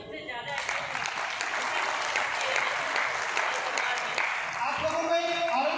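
An audience at a Kesariya Hindu Vahini event breaks into loud, sustained applause, many hands clapping in a thick wash that starts abruptly and holds steady, with faint voices mixed in.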